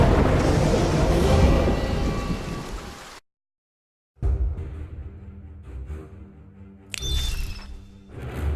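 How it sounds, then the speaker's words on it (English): Steady, heavy rain pours with rolling thunder in the game The Pillars of the Earth. The loud downpour cuts out for about a second of silence, then returns with a brighter crackling burst near the end. "It rained relentlessly."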